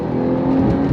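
A Porsche 911 Carrera engine pulls hard on throttle, a steady close-up drone that holds a strong tone and builds slightly in pitch across the second, with no talking over it.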